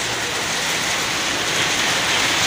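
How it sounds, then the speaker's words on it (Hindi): A downpour in Salalah, Oman, gives a continuous, even wash of falling water, near and steady throughout. "बहुत ज़बरदस्त बारिश होगी भाई सलाला के अंदर आज तो,"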